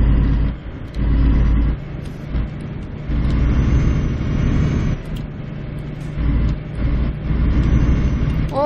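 Truck engine in Euro Truck Simulator 2 droning steadily while driving, a low rumbling hum that swells and eases with throttle changes, close and continuous.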